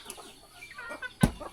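Chickens feeding in a rural Lao village give brief, soft clucks, with one sharper cluck standing out near the end of the short stretch.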